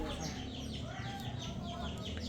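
Clucking from a rooster being paired with hens on a farm, short repeated calls close by over a steady background, with some faint voices around it.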